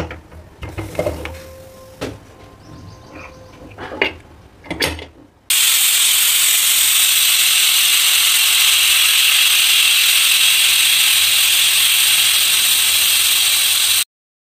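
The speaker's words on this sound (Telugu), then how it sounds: "ఇప్పుడు ఇది లేతగానే ఉంది కాబట్టి ఒక 4 విజిల్స్ పెడతా" A pressure cooker holding goat head curry clatters briefly, then lets out one long, loud, steady whistle and hiss of escaping steam that runs unbroken for about eight seconds before cutting off.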